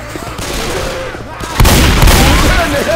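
Gunfire from the PC game Left 4 Dead 2, a continuous rattle that grows noticeably louder and heavier partway through, with no speech during the burst.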